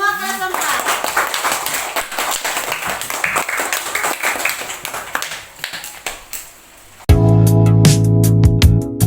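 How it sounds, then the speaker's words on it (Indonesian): Classroom of fourth-grade students clapping together, a dense run of quick hand claps lasting several seconds before giving way to other sound. "Tepuk tangan untuk semua kelas 4."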